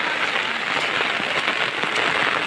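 Heavy monsoon rain pours down without pause, a dense, even hiss of drops striking surfaces close by.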